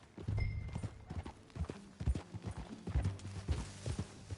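Horse hooves clip-clop at a steady walking rhythm in Red Dead Redemption 2, close and moderately loud, with faint whinny-like tones and low rumbling game ambience underneath.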